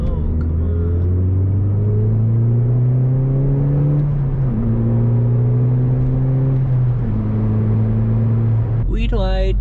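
A car engine revs and accelerates up through the gears, its drone rising in pitch then dropping at each shift, close and loud throughout.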